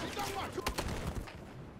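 Gunfire bursts during a bank shootout in the video game Battlefield Hardline, with sharp overlapping shots clustered near the middle and a dense game background throughout.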